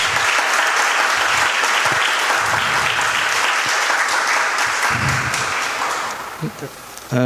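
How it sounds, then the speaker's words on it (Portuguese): A church congregation claps together in praise, a dense sustained round of applause that tapers off near the end as a voice returns. "Você pode dar uma salva de palmas para o Senhor"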